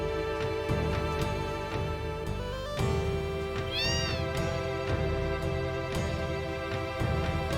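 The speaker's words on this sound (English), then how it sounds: "It's a room full of kitties." Several cats in a room in the video game Final Fantasy VII meow repeatedly over a continuous musical background, the calls overlapping and clearly audible with no talking.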